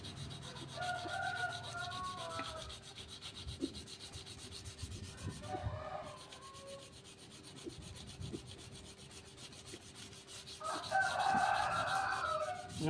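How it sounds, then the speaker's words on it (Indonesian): Repeated scraping strokes of a kitchen knife blade rubbing across sandpaper, steady and close, with a rooster crowing in the background a few times. "Ngasah menggunakan amplas ini lebih abrasif ya teman-teman ya."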